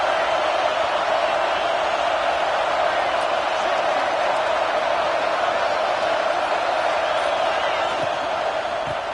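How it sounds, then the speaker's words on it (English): Steady, dense roar of a large stadium crowd at a college football game against Oklahoma, cheering for a red zone defensive stop, continuous and loud throughout with no clear breaks. "here comes the noise. This crowd is trying to inspire this defense to make a big red zone stop."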